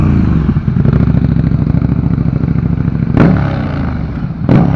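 KTM 1290R V-twin motorcycle engine revving hard and close, a loud, rough, pulsing roar that holds steady, with a couple of sharp clattering hits near the end.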